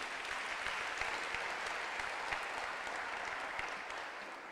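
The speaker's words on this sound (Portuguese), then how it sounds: "Quem pode dar uma salva de palmas para o Senhor Jesus?" Church congregation applauding during a service, an even, fairly faint wash of many hands clapping that continues steadily throughout and eases slightly toward the end, with no voices over it.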